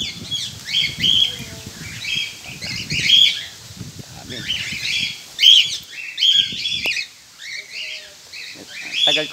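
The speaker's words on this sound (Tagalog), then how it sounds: "iba-ibang klase ng ibon" Several birds of various kinds chirp and tweet on a farm in Botolan in quick, high-pitched bursts, some close and loud, with faint rustling and murmuring voices underneath.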